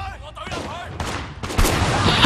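Gunfire in the video game Sleeping Dogs: a continuous, dense burst of shots heard close and loud, with game sound and voices mixed underneath and a louder surge near the end.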